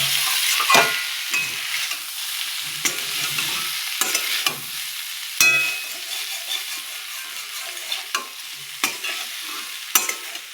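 Leafy greens stir-frying in a pan over lowered heat, a steady soft sizzle broken by repeated scraping stirs at irregular intervals, close and alone.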